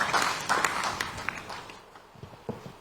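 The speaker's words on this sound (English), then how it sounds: "A round of applause for him" Audience at a Ghanaian media report launch event applauding, a burst of clapping that starts full and loud and then thins out into scattered claps over about three seconds.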